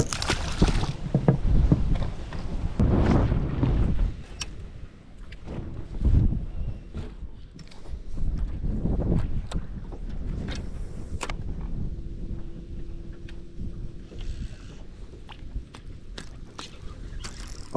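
Wind gusting across an open fishing boat on the water in late winter, with broad rumbling buffets that swell and fade over the whole stretch, strongest early on, with faint knocks and a brief low hum later.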